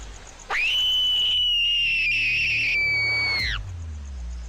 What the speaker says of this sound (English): I received an answer in the reply of a blood-curdling scream from somewhere ahead of me.